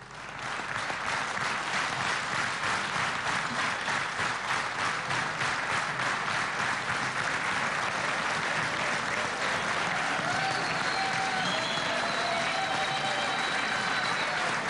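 An audience at a ceremony breaks into sustained applause, dense clapping building quickly and holding steady for the whole stretch, with faint voices rising beneath it later on.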